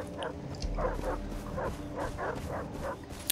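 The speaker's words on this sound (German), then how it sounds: "Einmal weg hier von den dämlichen Hunden." Dogs in the video game Far Cry 3 bark and yip in a quick run of about eight short barks at a moderate distance, set against a steady background of game ambience.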